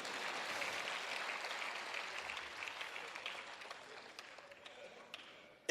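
A crowd at a Hindi kavi sammelan (poetry gathering) breaks into dense applause, a loud wash of many hands clapping that gradually thins and fades toward the end, capped by a sudden sharp sound.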